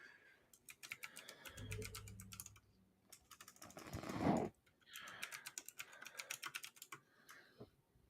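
Rapid clicking keystrokes on a computer keyboard come in quick bursts separated by short pauses, quiet and close, with a brief rustling swell in the middle.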